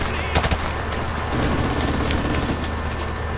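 Rapid bursts of automatic gunfire in Call of Duty: Modern Warfare, with sharp shots early on over a steady, dense battle din that continues throughout, loud and close.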